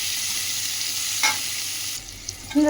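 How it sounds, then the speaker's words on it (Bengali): Chopped onions fry in hot oil already used for lentil fritters and potatoes, making a continuous loud sizzle close by, with a brief stirring scrape partway through and clattering stirring at the end. "এবার এখানে পেঁয়াজ কুচি দিয়ে দিলাম দিয়ে পেঁয়াজটা খুব ভালোভাবে আমি ভেজে নেব"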